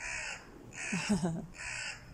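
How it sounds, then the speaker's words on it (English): A crow caws repeatedly in a garden in spring, three harsh calls spaced about a second apart, fairly close and clear against quiet outdoor background. "The crow agrees."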